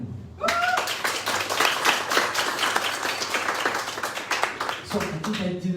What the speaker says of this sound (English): Huge applause again.